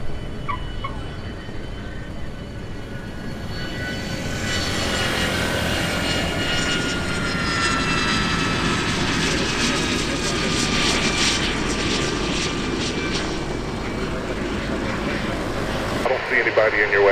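A propeller-driven tail-dragger airplane lands at Oshkosh, its engine droning loud and close as it passes, with a rising whine and steady roar, while radio and voices chatter underneath.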